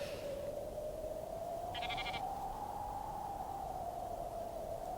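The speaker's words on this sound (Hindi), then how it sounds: "तुम अपनी ये भेड़ बकरियां संभाल के रखो" Sheep and goats bleat faintly from a distance in a farm field, a short call heard over a constant hiss.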